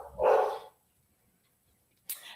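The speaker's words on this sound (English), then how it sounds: "So my dog has adopted a very strange habit, and that is that he gets real aggressive when people leave." A dog barks loudly at someone leaving the house: one strong close bark burst at the start, then silence, then a short sharp yelp-like bark at the end.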